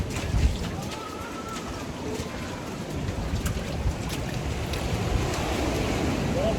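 Ocean surf rolling in along an Australian shoreline, a broad continuous wash of water with wind buffeting the microphone, building slightly louder toward the end.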